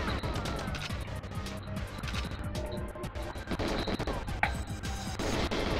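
Gunfire from the Nintendo 64 game GoldenEye on its runway level comes as rapid, loud bursts of shots and crashing impacts over busy game sound, with no voice.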